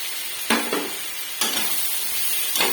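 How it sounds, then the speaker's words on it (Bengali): Poppy seed paste going into a pan of frying potatoes and onions, with a steady soft sizzle and three scraping stirs of a spoon spaced through it. "এবার এর মধ্যে আমি পোস্ত বাটাটা দিয়ে দেবো"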